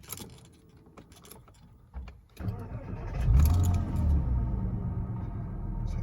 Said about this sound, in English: As you can see, it's idling fine.